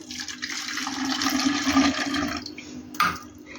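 Water is poured into packaged thick milk in a steady, close splashing stream for about two and a half seconds, then stops with a brief clink.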